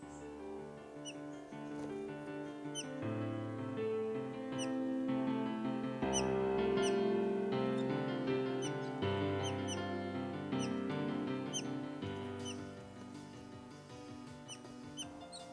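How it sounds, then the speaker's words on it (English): Bright, repeated chirps of a yellow-tufted honeyeater ring out over a dense bed of music, the calls short and scattered throughout. "The chirping noise is from the yellow tufted honeyeater"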